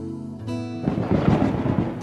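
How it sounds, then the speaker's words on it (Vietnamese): A cartoon thunderstorm breaks in: after a brief musical lead-in, a loud rolling rumble of thunder with a steady wash of rain fills the rest of the short scene, with no talking. "Thôi chết rồi, lại sắp mưa to gió lớn rồi"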